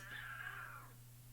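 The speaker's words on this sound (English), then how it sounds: "Oh, there they go again, those cats." Cats meow in a drawn-out caterwauling cry, a single wavering yowl that fades after about a second, heard faintly at a distance over a steady low hum.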